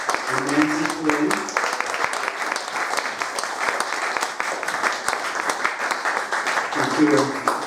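At a poetry open mic, the audience breaks into continuous clapping, close and lively. A host's voice talks over it briefly at the beginning and end.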